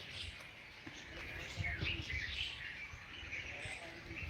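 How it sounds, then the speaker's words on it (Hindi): Small birds chirp and tweet outdoors, their faint, scattered calls repeating over a low background hum, with a hint of cooing. "ये चिड़िया की आवाज़ कितनी मधुर है"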